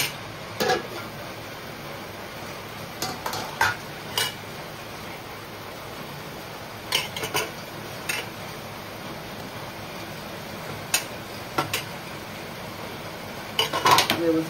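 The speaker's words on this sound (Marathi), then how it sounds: "व्यवस्थित मिक्स करून घेऊ।" Utensil scraping and clinking against a pan while fenugreek leaves with grated fresh coconut are mixed, soft intermittent taps and scrapes spread over a steady background hiss, a few sharper knocks near the end.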